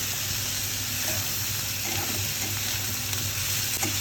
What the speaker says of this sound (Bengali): একবারে পেঁয়াজগুলো ভেজে নিচ্ছে আমার ওয়াইফ